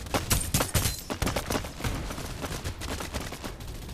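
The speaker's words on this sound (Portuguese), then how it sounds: "Agora vai começar a trocação de tiro aí, ó. Ixi, já estamos atirando sem dó, ó." Rapid bursts of gunfire crackle in a firefight in the battle royale shooter Farlight 84, dense volleys and automatic fire, loud and close, with little else beneath.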